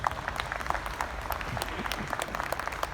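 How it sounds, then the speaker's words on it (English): An audience at an EV battery and charging panel discussion gives a steady round of applause, dense overlapping claps at moderate distance, fairly quiet overall. "Shall we honor them with a big round of applause?"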